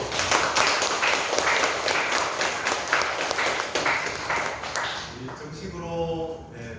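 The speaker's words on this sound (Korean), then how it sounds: "우리 박수로 우리 축복합니다" Church congregation applause at a Sunday service honouring newly appointed deacons, brisk, fairly loud clapping from a crowd that tapers off near the end as a voice returns.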